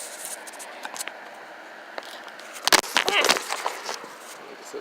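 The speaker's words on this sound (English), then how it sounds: "Back to taking off the husk of these black walnuts." Black walnut husk being cut open by hand, a short burst of crisp scraping and cracking clicks midway through a quiet room background.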